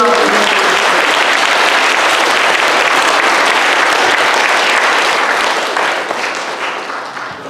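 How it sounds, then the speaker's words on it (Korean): A church congregation applauding in a dense, loud roar of clapping that holds steady, then thins and fades toward the end. "하나님 앞에 영광의 박수 보내십시오"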